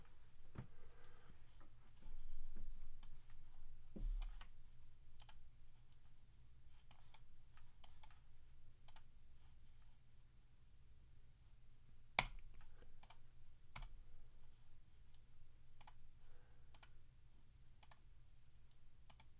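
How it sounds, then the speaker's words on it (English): Sparse keyboard keystrokes on a computer keyboard, isolated clicks and taps scattered irregularly over a quiet low hum, faint and close, with a couple of slightly sharper strikes. "Don't listen to my keystrokes."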